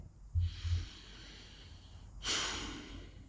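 Two slow, deep breaths taken with eyes closed, each a long airy rush close to the microphone, separated by a quiet pause, with no talking.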